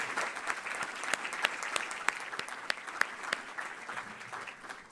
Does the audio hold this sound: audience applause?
yes